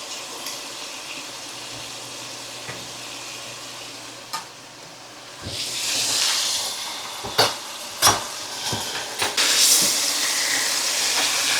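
Hamburger patties sizzle steadily in a hot pan with a broad hiss, joined midway by louder scraping and clanking bursts as they are worked with a spatula, close and without talk.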